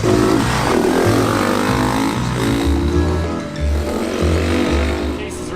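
A Honda Trail 90 motorcycle that sat for 40 years in a barn, ridden hard around a property, its engine loud and close with repeated revving surges throughout.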